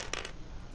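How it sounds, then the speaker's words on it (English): Dice rolled during a King of Tokyo board game, a brief, faint clatter of dice tumbling on a hard surface, lasting under a second. "Joe, dice roll."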